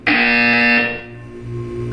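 A loud, harsh electronic buzzer from the video game Portal 2 blares for about one second, then a lower buzzing hum fades and continues underneath, with no talk.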